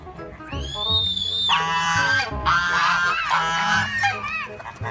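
Goose honks ring out loud and close, a series of nasal calls rising and falling over a low background rumble.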